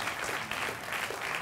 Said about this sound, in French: On l'applaudit, Jean-Paul, s'il vous plaît